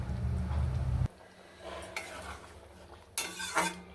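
Boal fish pieces poured into bubbling curry in a pot, a loud splashy rush that cuts off abruptly, then quiet simmering with a couple of sharp clinks and scrapes of utensils.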